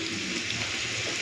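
Hot water poured into a cooking pot of boiled dal with mixed vegetables, giving a steady broadband watery rush that stays close and even for the whole moment, with no voices.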